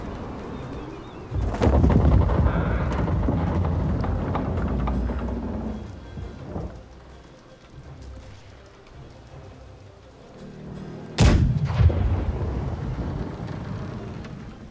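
Ship cannons fire in the Blackwake naval battle game, two heavy booming blasts several seconds apart with rumbling decay, set against a steady wash of wind and sea ambience.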